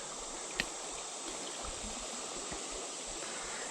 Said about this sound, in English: Up here in this little tiny creek.